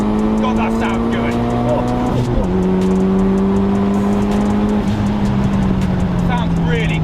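A Mitsubishi Lancer Evolution VI with a turbocharged 4G63T engine drives with the window down, its loud steady engine drone rising and falling with gear changes, and a voice is faintly present beneath it.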